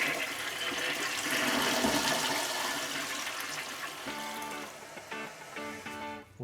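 A toilet flushes with a loud rushing swirl of water that fades into gurgling and the trickling hiss of the tank refilling, close by with no voices.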